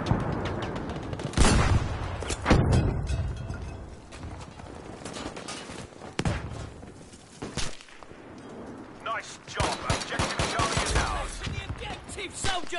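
A video game battle plays with rapid bursts of gunfire and sharp blasts that could include a grenade explosion, dense and loud throughout, with voices talking over the action.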